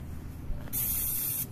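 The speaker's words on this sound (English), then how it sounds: "If the cooking grid looks unusually dry, I'll spray with a little grilling pan before I light the grill." Grilling spray hisses onto the cooking grid of a Dyna-Glo DGF350CSP two-burner gas grill, one steady burst of a bit under a second, close and fairly loud, with no talk.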